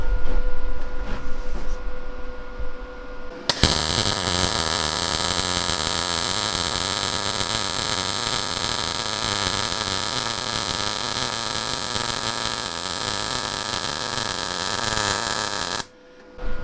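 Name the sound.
MIG welder welding a seam on profile tube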